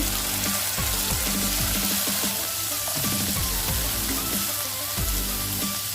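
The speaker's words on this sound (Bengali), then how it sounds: "পেঁয়াজটা এখন আমার একটু ভাজা হয়ে গেছে, এখন এর মধ্যে টমেটোটা দিয়ে দেব।" Onions frying in a pan with turmeric, chilli and coriander powder just before tomato goes in, a dense steady sizzle close up with light stirring throughout and no talking.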